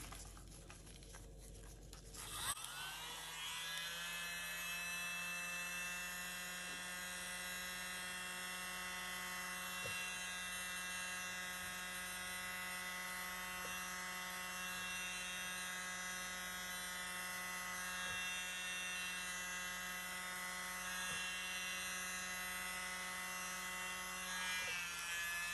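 A small electric mini blower switches on after a brief rustle and runs with a steady, high-pitched whine, blowing over poured paint, continuous and fairly quiet.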